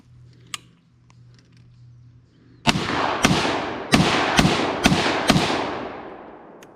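A Norinco 56 SKS rifle fires six sharp, loud shots at a target about 20 yards away, each followed by a decaying outdoor echo, after a quiet opening with a faint click.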